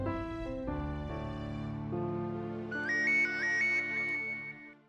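Electronic phone ringtone plays as a steady melodic tune, rising into a bright, trilling repeated figure in the second half, fairly loud and with no voices over it.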